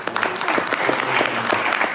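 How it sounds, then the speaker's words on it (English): Applause for Village of Dolton employees at a board meeting, a dense burst of clapping from the room that holds steady for a couple of seconds. "ask everybody to give a round of applause to the employees from the Village of"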